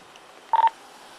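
A police officer's phone keypad gives off a quick burst of two or three dialing beeps, close and distinct over faint background hiss.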